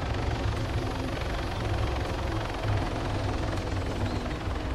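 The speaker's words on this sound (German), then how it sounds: "Wo landet denn dein Heli da drüben?" A helicopter in the ArmA 3 video game drones continuously with a low rotor thrum and steady engine noise, loud and unbroken throughout.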